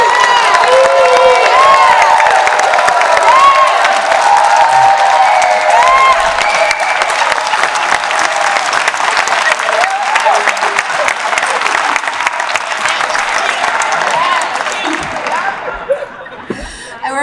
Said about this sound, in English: I'd like to invite all of you to give me a thunderous round of applause